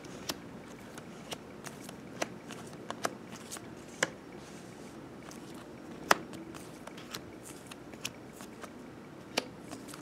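Magic trading cards are handled and dealt into small piles on a table, a steady series of light snaps and flicks close by, roughly one every half second.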